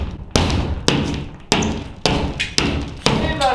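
A hammer and crowbar knock out parts of a living room during renovation: six heavy, evenly spaced thuds with a clanging edge land about every half second, each followed by a ringing decay.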